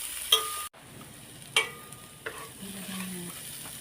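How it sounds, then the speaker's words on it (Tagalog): Garlic and onion are sautéed in a pan with a soft, steady sizzle, broken by a few sharp clinks and scrapes of a utensil stirring, close up and without talking. "Ulisan natin siya ngayon sa bawang sibuyas."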